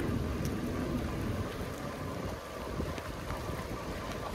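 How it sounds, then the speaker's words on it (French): Steady rain pours down beside a canal on a bike ride along the Vélodyssée in western France, a dense continuous hiss of drops on water and surfaces, fairly close and even, with no voices. "Ça y est, il pleut."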